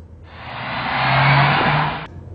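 The turbocharged engine of a Nissan Juke revs up steadily and sounds slightly whiny, holding a rising tone for about two seconds before cutting off abruptly. No voices are heard over it.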